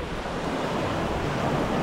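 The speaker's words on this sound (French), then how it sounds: "J'ai pas fait gaffe aux vagues." Ocean waves surging onto the beach at Punta Kawita in Costa Rica, a steady broad roar of surf with wind noise across the microphone, loud and continuous with no voices.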